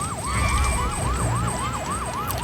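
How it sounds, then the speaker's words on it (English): Wailing siren on Big Red's head in Luigi's Mansion 3, a loud, steady rising-and-falling electronic whoop repeating about every quarter second over low game rumble. "but the siren on his head definitely is not"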